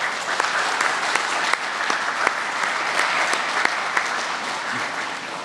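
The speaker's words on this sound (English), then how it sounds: "A round of applause for all of them," An audience at a health campus groundbreaking ceremony applauds steadily, with dense outdoor-sounding clapping and a few sharper individual claps standing out.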